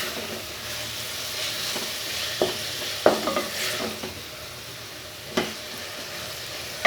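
Chicken being stirred with ginger garlic paste in a pan: a steady sizzle and hiss, with scattered scraping and clinking of the spoon against the pan, heard close.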